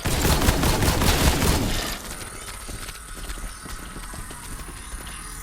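Gunfire in the video game Borderlands 3, a rapid rattling volley of shots for about two seconds that gives way to quieter scattered clatter and a low background hum.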